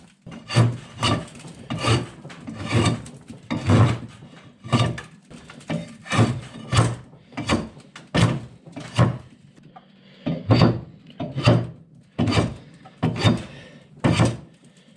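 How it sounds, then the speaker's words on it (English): Draw knife shaving wood, a series of about twenty loud, close rasping strokes in a steady rhythm, each a short scraping pull followed by a brief pause. "I'm gonna be using a super awesome handy tool called a draw knife"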